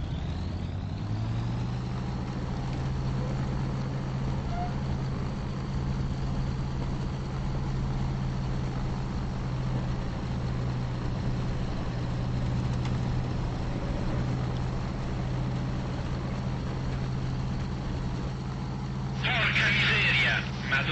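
Macchi MC.200 Saetta fighter engine in the IL-2 1946 flight simulator hums steadily and loudly throughout, a constant low drone with a brief hiss near the end and no change in pitch.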